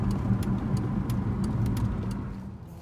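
A Triumph Stag drives along a motorway, its engine a steady low drone under continuous road and wind roar, with faint light ticks throughout.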